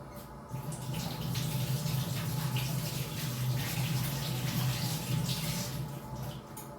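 Small potatoes rinsed under a running tap, a steady close rush of water with faint splashes and shifting as they are turned by hand.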